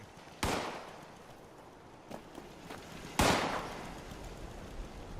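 Gunfire in the video game Fallout 76, a few sharp distant shots cracking out singly against a low ambient background, with no voices.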